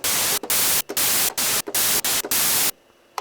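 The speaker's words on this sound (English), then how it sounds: "It has these waveforms: noise" Bursts of harsh noise-waveform hiss from a Roland SH-09 analog synthesizer in short on-off pulses, five or six blasts separated by brief gaps, ending in quiet.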